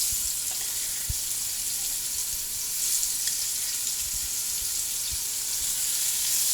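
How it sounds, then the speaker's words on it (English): Shrimp sauté in hot olive oil in a cast iron pot with a steady close sizzle, broken by a few soft knocks as the pieces are laid out. "we're going to add our shrimp into the pot and saute the shrimp"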